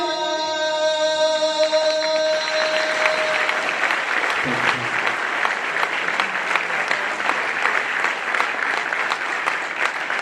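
At an award ceremony honoring brave people of Uttarakhand, a sustained musical tone fades into loud, steady audience applause that carries on evenly, a dense patter of many hands filling the hall.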